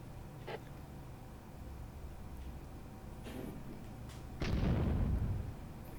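Mortar shells firing in the video game Firefight: faint distant thuds early on, then a louder low rumbling blast near the end over steady background noise.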